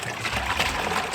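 Water being poured into a bucket to mix Rapid Set concrete for a DIY slab, a short steady trickling and splashing flow at moderate volume, heard alone.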